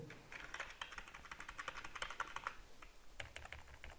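Rapid keystrokes on a Polosmart PGM11 Versus gaming keyboard, a fairly quiet, steady stream of light clicks close up with no talking.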